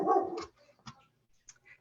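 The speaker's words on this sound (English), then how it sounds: "See, my dog agrees." A dog barks indoors: one loud bark at the start, then a few softer short yips and whines spaced out, close by with no speech.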